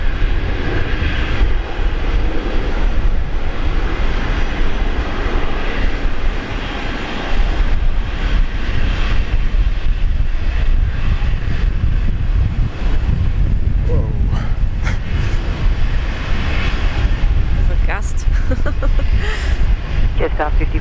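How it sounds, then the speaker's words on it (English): Jetstar airliner on its landing at Brisbane Airport, arriving from Seoul, its engine roar and rushing air steady throughout, with wind buffeting the microphone and a voice talking over it in places. "Jetstar flight 54 coming in from Seoul, South Korea."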